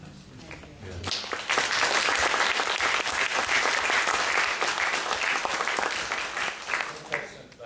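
Audience at a screening and discussion event breaks into applause, rising quickly to a sustained wave of clapping that gradually thins toward the end.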